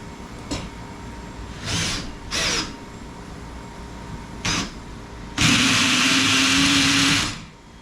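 A power drill driving a screw up into ceiling wood while a cargo hoist is mounted, with a few short whirring bursts followed by a longer, louder sustained run near the end.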